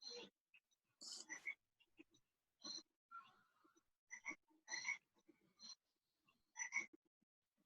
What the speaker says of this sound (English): I literally hear a frog noise.